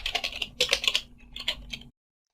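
Quick clatter of computer keys as a command is typed, a close burst of rapid, uneven keystrokes lasting under two seconds, then silence.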